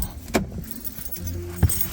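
Car keys jangle in two short metallic bursts, one early and one near the end, over a low background rumble from close by.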